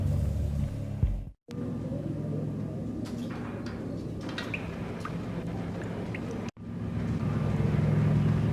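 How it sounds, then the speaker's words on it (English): An old service elevator in the Max Payne video game descends with a low, steady mechanical rumble, continuous and fairly close, broken by two brief silent gaps. "The old service elevator rumbled down to the bowels of Jack Lupino's hotel."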